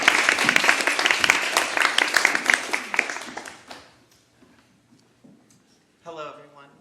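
An audience applauds to welcome a speaker onto the stage at a talk. The clapping is loud and dense for about four seconds, then fades out, and a voice begins speaking near the end.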